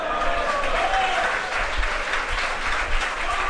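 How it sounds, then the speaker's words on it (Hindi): Applause from an audience at a spiritual discourse, a dense steady patter of many hands clapping that carries through the whole stretch at moderate level, with a faint voice briefly audible beneath it. "तालियां मत बजाइए, तालियां मत बजाइए"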